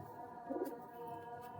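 Pigeon cooing steadily from a pair of large Kaldum pigeons, soft and continuous with a slight swell midway, close by and fairly quiet, with no talking.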